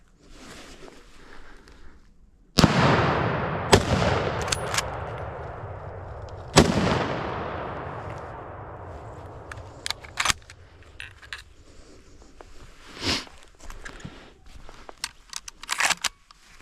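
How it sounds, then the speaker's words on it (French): Rifle shots are fired at a wild boar during a hunt outdoors, with three loud cracks, each trailing a long echoing boom, followed by quieter rustling and scattered knocks, no talk. "Le sanglier prendra les 3 balles, mais la dernière lui sera fatale"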